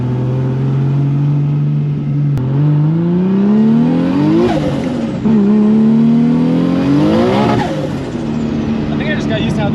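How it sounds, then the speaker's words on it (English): A Nissan Skyline fitted with a BMW S54 engine pulls hard through rising revs, the loud engine note climbing in several sweeping surges between shifts, close by from inside the car. "S54 is a great engine."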